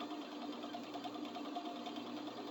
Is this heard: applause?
no